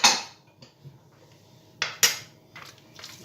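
A spoon clinks and scrapes against a bowl while spices are stirred into a cauliflower and potato mixture, with a few sharp taps and softer scraping between them, close by with no talk.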